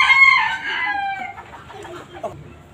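Fancy foreign chickens crow once, a long loud harmonic call, then break into a stretch of softer, scattered clucking from nearby birds.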